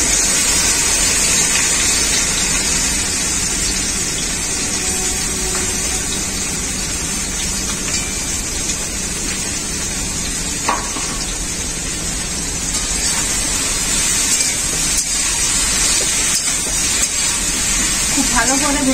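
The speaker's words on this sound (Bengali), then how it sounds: "এরপর আমি ভেন্ডিগুলো তেলের মধ্যে দিয়ে দেব।" Okra pieces dropped into very hot oil set off a loud, continuous hissing sizzle that stays even for the whole stretch, with a person speaking over it.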